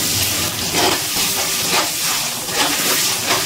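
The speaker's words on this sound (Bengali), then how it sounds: "গ্যাসের ফ্লেমটা মিডিয়ামে রেখে ডিমটা ভেজে নিচ্ছি।" Eggs frying in oil over a medium gas flame, a loud, steady close-up hiss and sizzle that swells slightly in waves, with no voices over it.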